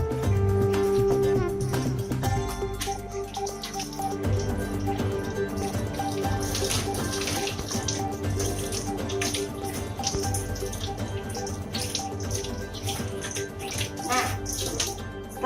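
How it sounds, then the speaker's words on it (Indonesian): Tap water runs steadily into a sink as hands are washed, a loud, close, continuous splashing rush lasting throughout with slight shifts as the hands move under the stream. "Oke, saya cuci tangan dulu ya."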